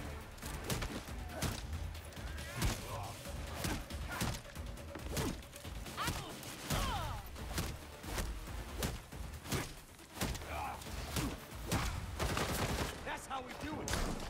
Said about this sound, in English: please stop shooting me in the back